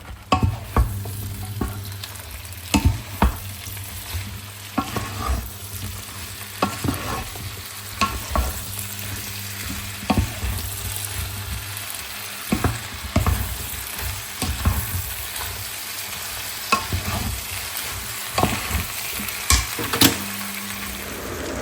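Eggplant frying with spices in oil in a pan, sizzling steadily while a spatula stirs and scrapes in frequent, irregular clatters close by.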